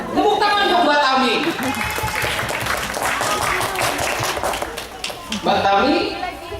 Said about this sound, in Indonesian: Tepuk tangan dong Mbak Tami.